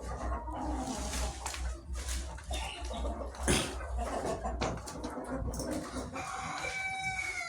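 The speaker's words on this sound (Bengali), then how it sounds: "এই অস্ট্রেলক মুরগিগুলো" Australorp chickens in a poultry flock cluck steadily at close range, with a brief louder squawk or crow mid-way and no speech over the busy, continuous bird noise.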